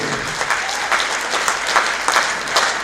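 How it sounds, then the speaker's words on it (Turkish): A concert audience claps warmly and steadily, a dense, lively patter of many hands close by, with occasional louder bursts running through. "Alkışlar"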